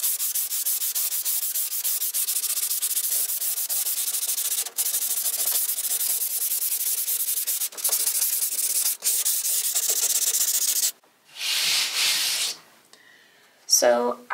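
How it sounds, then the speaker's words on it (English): Rhythmic scraping of sandpaper rubbed by hand back and forth across a wood-paneled wall, close and steady, with brief pauses and a few handling noises near the end. "there's still more sanding for me to do just along here."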